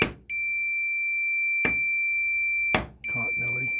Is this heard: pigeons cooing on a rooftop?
no